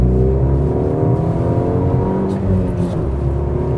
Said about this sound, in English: Hear that engine? It's just a note, man.